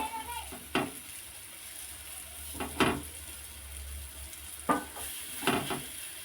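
Brinjal slices fry in a pan over a low flame with a soft, steady sizzle. A few sharp scraping and clattering stirs break through it at intervals, close by, and no one speaks.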